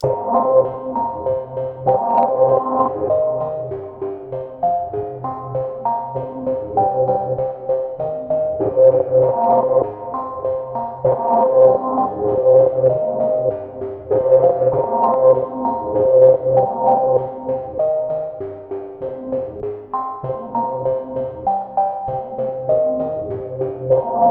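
A synthesizer arpeggio cycles through steady repeating notes at moderate volume, its tone shifting gently over time with no voices present.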